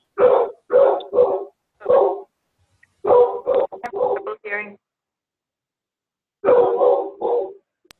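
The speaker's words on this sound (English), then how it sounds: "Who's got a dog barking?" A dog barks in several quick bursts of three or four, pausing between volleys, close and clear against a quiet background.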